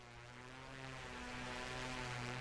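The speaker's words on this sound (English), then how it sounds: "You can hear the engines going, wow, wow." Twin engines of an Aerostar 600 aircraft in MSFS 2024 replay give a steady droning hum with clear tonal bands, rising slightly in loudness, faint and without speech.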